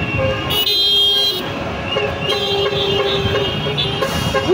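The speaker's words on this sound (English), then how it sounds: "The road users are also supporting us in hooting." Car horns honking from road users passing a street protest, several toots heard over steady traffic noise and crowd murmur.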